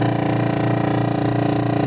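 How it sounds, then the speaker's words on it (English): The vacuum pump on a screen printing exposure unit running, a steady close mechanical hum with a fast regular pulsing throb and no voices. "that has an air pump, vacuum pump, to suck all the air."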